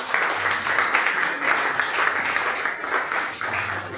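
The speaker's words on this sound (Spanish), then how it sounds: "Un aplauso por los anfitriones." Warm applause from a church congregation honoring home-group hosts, a dense continuous patter of many hands at moderate volume with a faint low hum underneath.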